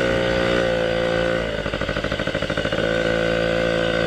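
Small Yamaha PW 50 motorbike engine buzzing steadily while ridden off-road, close and loud, with a stretch of rapid pulsing putter mid-way before the steady drone returns.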